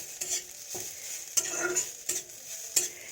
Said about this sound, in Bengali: তারপর এটা তেলের ওপর এটা ভাজা হচ্ছে